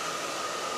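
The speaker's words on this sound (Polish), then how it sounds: "A, nawet jest suszarka." A hair dryer runs steadily in a Russian-style bathhouse in Tbilisi, Georgia, making a constant rushing blow with a thin whine on top. It is fairly close and uninterrupted.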